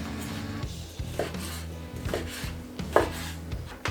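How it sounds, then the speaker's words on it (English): A knife cuts through a slab of cooled polenta on a board in several dull, close chopping strokes, with no talk. "We're just gonna cut this up so I can fit it into the grinder"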